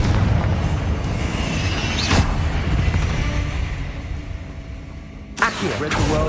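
A booming spell blast from the Hogwarts Legacy video game rumbles under a low roar of game audio, with a sharper crack near the start and another burst near the end, and a voice briefly present.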